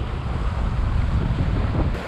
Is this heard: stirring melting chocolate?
no